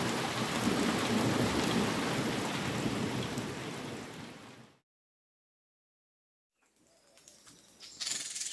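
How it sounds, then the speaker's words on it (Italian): Tropical thunderstorm in Ethiopia: heavy rain pours in a dense, loud hiss with rumbling thunder for several seconds, then drops out to silence before fainter rain and patter return. "Serata uggiosa, tempesta tropicale qui in Etiopia."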